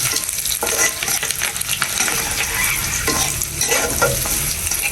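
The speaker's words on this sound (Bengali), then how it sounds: "হালকা নাড়বো, 2 মিনিট নেড়ে নামিয়ে ফেলবো" Onions with turmeric frying in a pan while being stirred, a loud continuous close sizzle with scraping stirs throughout and no voices.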